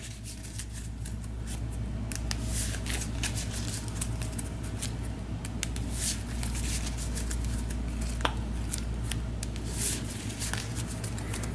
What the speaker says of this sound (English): So we've got the tarot deck right here. We'll give it a shuffle.